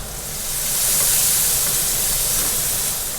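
Finely chopped red onion hits about three to four tablespoons of hot olive oil in a wok, a loud steady sizzle that swells quickly and holds as a dense, even hiss, with no talk.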